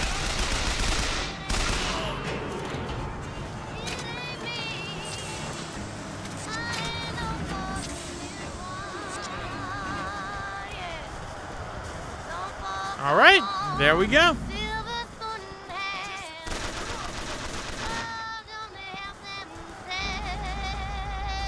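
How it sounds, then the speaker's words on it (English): A carbine machine gun fires in bursts during a police station raid in BioShock Infinite, rapid loud shots mixed with chaotic game effects and music, with a voice talking over the action. "I'm sorry, this machine gun is just really powerful."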